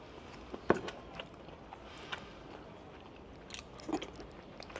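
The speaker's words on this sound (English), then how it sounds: "when you bite into them, you're actually getting that crunch." Crisp bites into a crunchy raw carrot, a couple of sharp crunches followed by softer chewing, close and fairly quiet with no talk.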